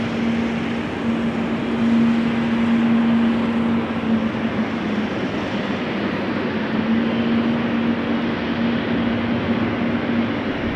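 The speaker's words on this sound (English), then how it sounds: "the GE90s always sound so nice" GE90 jet engines on an airliner at rainy Amsterdam Schiphol Airport produce a constant loud roar with a sustained humming tone riding through it, steady for the whole stretch and unbroken by speech.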